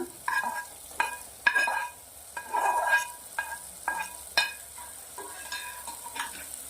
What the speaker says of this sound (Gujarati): હવે આપણે જે રીંગણા રાખ્યા છે નાખીને એ નાખી દેવાના છે